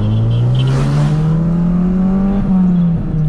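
Drift cars revving hard at a drift and drag racing event at the Luanda racetrack, a loud, close, sustained engine roar with rising and slightly falling pitch.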